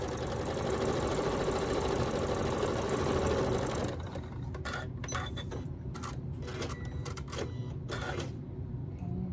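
A sewing machine stitches quilt fabric for a quilt block, running in a steady, dense mechanical whir for about four seconds, then breaking into short, uneven bursts of stitching with pauses between them.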